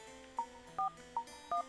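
Telephone keypad tones from the Famicom Detective Club video game: four short electronic beeps in an even rhythm, two single-pitch tones alternating with two dual-tone bleeps, clear and alone.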